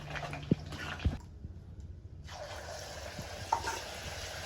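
Spice-marinated chicken sizzles loudly in hot oil, a steady crackling hiss broken by a few sharp utensil knocks, briefly dropping away to near quiet before the frying resumes.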